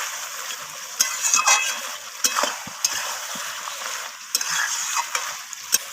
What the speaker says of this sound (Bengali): তো সমস্ত কিছু এইভাবে আমি কষিয়ে নিচ্ছি।